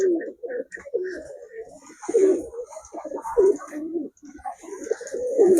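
Pigeons, including white ones, coo repeatedly in low, throaty bursts close by, with soft rustling and a faint high hiss in the background.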